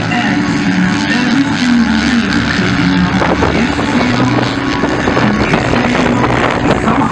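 Velocross motorcycles in the women's VXR class accelerate at a race track in Caarapó, giving a continuous, blurred engine drone from a distance, mixed with wind buffeting on the microphone.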